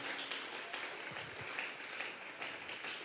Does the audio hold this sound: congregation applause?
yes